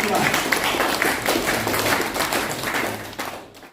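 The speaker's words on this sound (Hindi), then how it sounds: "ऐसे एक बार जोरदार तालियां कंपनी और उस प्रोडक्ट के लिए जो उन्होंने इसे लॉन्च किया" Audience at an indoor distributor business meeting clapping loudly for a company's newly launched product, a dense burst of applause that tapers off toward the end.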